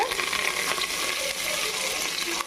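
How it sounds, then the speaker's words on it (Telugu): Chicken frying in a pan with whole spices such as cloves for a spicy biryani, a steady close hiss and crackle of sizzling oil with faint stirring. "కొంచెం ఫ్రై చేసుకుందాం. కొంచెం ఫ్రై అయితే చాలు."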